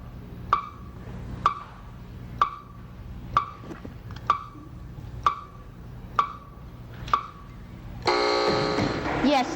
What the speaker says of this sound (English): Hands off buzzer.